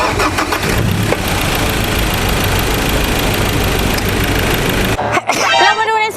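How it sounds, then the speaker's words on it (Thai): A 2018 Ford Ranger 2.2 pickup truck engine idles loudly and steadily with a rough, rattling drone, then cuts out abruptly near the end. "เราไปฟังเสียงเครื่องยนต์กัน"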